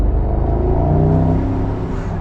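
The 4-litre engine of a 2024 Mercedes-AMG SL63 4Matic+ roadster revs hard, a loud, close, steady growl with rising harmonic tones throughout and no voices over it.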